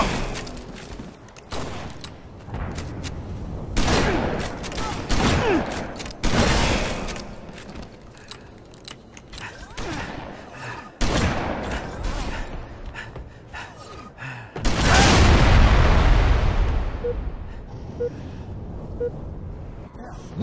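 Shotgun blasts in the Halo Reach video game, heavy repeated booms a few seconds apart among in-game combat noise, with a large burst near the end and the announcer's voice calling out kill medals.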